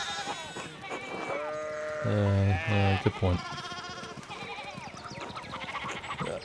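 A sheep in the medieval game Pentiment gives a loud, drawn-out wavering bleat up close, with fainter bleats around it and someone speaking briefly.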